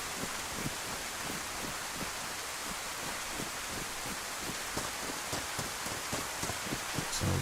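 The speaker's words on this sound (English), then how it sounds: "it is sorta kinda rainy" Steady rain falls in the DayZ game on the Livonia map, a dense continuous hiss with scattered close drips and patters on a surface, heard alone without any voices.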